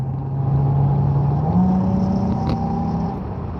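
A car engine revving in traffic, a steady loud drone that rises in pitch midway, holds, then eases off, close by with no voices over it.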